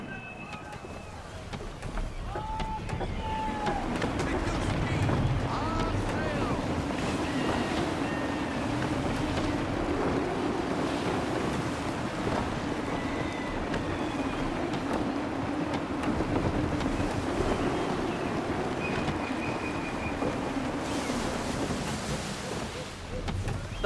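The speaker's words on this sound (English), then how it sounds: "Gusty winds can be difficult to manage." Gusty wind at sea in Assassin's Creed III, a steady roaring rush of wind and water around a sailing ship, loud and continuous, with occasional higher tones from the game.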